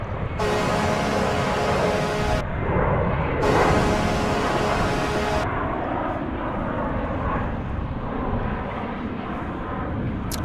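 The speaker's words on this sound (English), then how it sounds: "let's sound the alarm again for a heavy alert here early on, right as we are getting underway." A heavy alert horn effect on a live planespotting stream at DFW airport sounds in two long, loud blasts, each about two seconds, over constant rumbling aircraft noise that continues after the horn stops.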